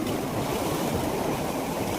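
Sea waves wash onto Chirala beach in a steady, continuous roar of surf, with wind buffeting close to the microphone throughout.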